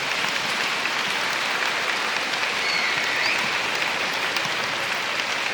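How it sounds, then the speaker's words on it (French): Concert audience applause after a speech at a Grand Verdun event, a dense steady wash of clapping from a large crowd, loud and continuous throughout. "un tonnerre d'applaudissements"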